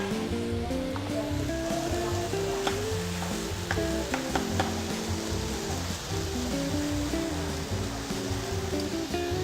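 Fresh big prawns sizzle and hiss in a hot wok as they are tossed and stirred, a loud continuous frying crackle with occasional scraping clinks throughout.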